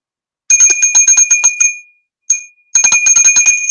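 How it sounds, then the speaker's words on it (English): A small bell rung for a sound-clearing practice, struck in rapid repeated strikes that leave a bright sustained ring, then a single tap and another fast series of strikes, loud and close with nothing else audible. "one of the ways that I do that is with a bell."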